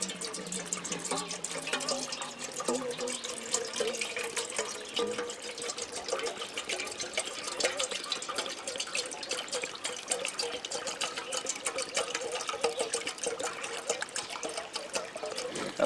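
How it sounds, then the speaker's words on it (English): Water pours steadily into a metal pot being filled for bush coffee, using cold creek water, a continuous trickling splash that runs the whole time at moderate level with no talk over it. "So what we're going to do now is we're going to put some water in here."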